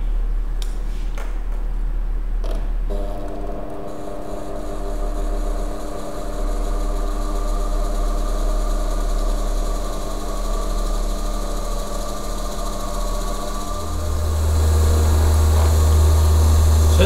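A Tesla turbine spins at about 30,000 rpm, giving a steady high mechanical whine with sustained tonal hum. A deep low rumble rises near the end.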